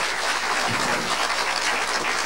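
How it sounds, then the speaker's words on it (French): Audience applause after a talk, a dense, steady wash of clapping from a hall full of people, continuous and fairly loud throughout. "vous pouvez les applaudir tous les quatre"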